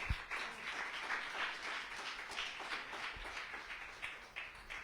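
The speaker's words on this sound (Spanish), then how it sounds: "Denle un aplauso al Señor" A church congregation applauding during a service, soft, fairly distant clapping with a few louder individual claps and a light thump or two, fading slightly toward the end.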